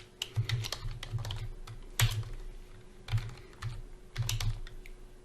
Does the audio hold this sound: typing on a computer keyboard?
yes